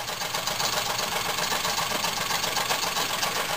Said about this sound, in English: allow it to run momentarily